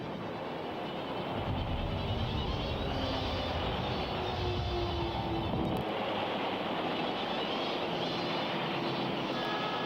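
Japanese warplanes in a 1945 attack on US destroyers roar in a continuous, heavy engine drone that swells and shifts, heard alone with no voices over the whole stretch.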